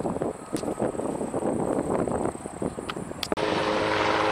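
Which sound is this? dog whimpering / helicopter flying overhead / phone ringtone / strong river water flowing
helicopter flying overhead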